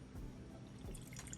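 Pickling brine poured from a container over eggs packed in a canning jar, a soft continuous trickle and splash, close and fairly quiet, with no talking.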